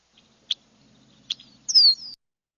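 Red-winged blackbird calls in a marsh: two short sharp chips followed by a brighter, drawn-out whistled trill, fairly clear against faint low background rumble.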